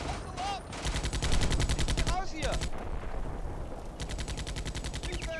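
Rapid bursts of automatic gunfire and shots crackle through a battle in the WWII tank game Combat Mission: Beyond Overlord, dense repeated volleys with brief gaps, loud and continuous across the scene.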